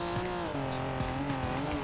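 A 90's Porsche 911 Turbo S in the BeamNG driving game skids under hard braking on dirt, with continuous tire squeal over a steady engine drone, loud and close.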